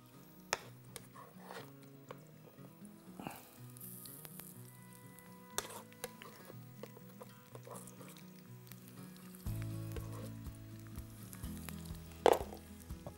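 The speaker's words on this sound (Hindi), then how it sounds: "प्याज को बहुत अच्छी तरीके से हमने फ्राई कर लेना है" Onions fry in a pan while brain curry is prepared, a steady low sizzle with occasional stirring clatter and scrapes, growing denser toward the end with one sharp utensil knock, no talking.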